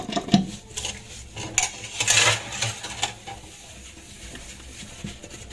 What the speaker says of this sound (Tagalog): So next step is maghugas naman ako ngayon ng pinggan